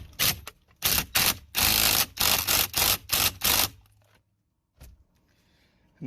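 Steering wheel bolt on an F250 being tightened back down, a burst of rapid ratcheting clicks in several quick runs, close and loud, then a pause and one last click.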